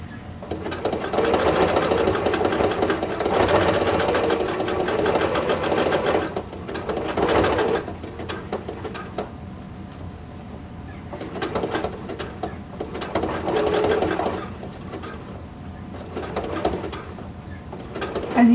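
A sewing machine stitches along the side of a zipper ruffle tank top, running in steady loud bursts with short pauses between seams as the fabric gathers are moved and the piece pivots.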